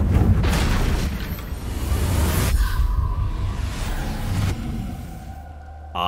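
A Confringo fire spell explodes in the game Hogwarts Legacy, a loud booming blast with a rushing roar that sustains for a couple of seconds, then fades into a rumbling tail.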